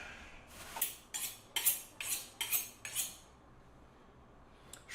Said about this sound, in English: Let's get our veggies cut.